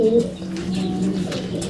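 Pigeon hen cooing close by, a low steady coo running through the whole short stretch with faint background noise and no talk.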